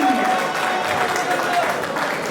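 Audience applause at an installation ceremony in Cologne for André Kinek and Martin Tonnet, steady dense clapping from a crowd with a voice speaking over it throughout.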